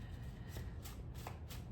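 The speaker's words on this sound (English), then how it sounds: "All right, I'm shuffling." Tarot cards shuffled by hand, giving a soft, quiet run of rapid riffling flicks.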